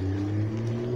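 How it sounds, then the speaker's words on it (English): A loud car drives past close by on a street, its engine a steady, heavy drone that stays strong for the whole moment. "That car is loud."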